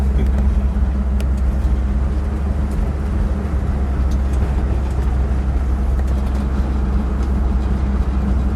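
A 1959 Edsel Corsair convertible with the optional 3-speed automatic transmission, heard from inside while driving: a steady low engine drone and road rumble carrying on evenly throughout, with no voices.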